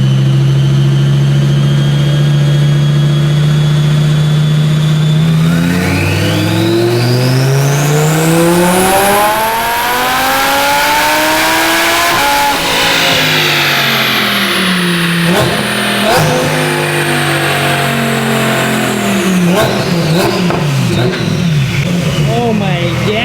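A twin-turbo car on a dyno idles loudly, then revs steadily up to a high-pitched roar and drops back, rumbling near and loud with voices underneath.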